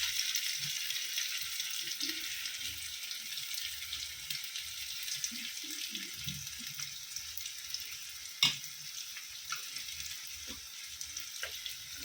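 Vegetables sizzling as they fry gently in a pan for a Bengali home-cooked dish, a steady broadband hiss with soft crackles and one sharp clink from a utensil, no talking.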